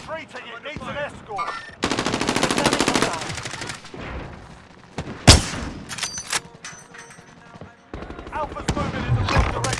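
Gunfire in Call of Duty Warzone comes as loud automatic bursts and sharp single shots that start and stop, with a player talking over the game.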